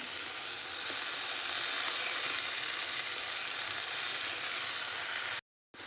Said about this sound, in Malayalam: ഇനി ഇത് നന്നായിട്ട് ചെറിയ തീയിൽ കരിഞ്ഞു പോവാതെ നല്ല രീതിയിൽ ഫ്രൈ ചെയ്തെടുക്കാം